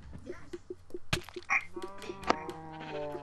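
Sheep in a video game bleating several times in quick succession, a few overlapping calls with short thuds between them, moderately loud and close with no talk over them.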